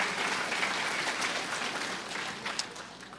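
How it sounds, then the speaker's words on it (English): An audience at a junior fiddle competition applauds as an 11-year-old player comes up, a steady, fairly soft and distant wash of clapping throughout. "let's give her a round of applause"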